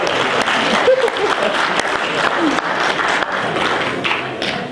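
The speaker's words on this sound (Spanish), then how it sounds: "Un aplauso." Audience applause rolls steadily through a room, a dense crowd of clapping hands with faint voices mixed in underneath.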